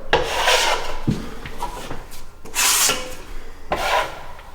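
A drywall skimmer trowel spreads joint compound across a wall in three long close rasping strokes with short pauses between, a gritty scraping swish and no talk.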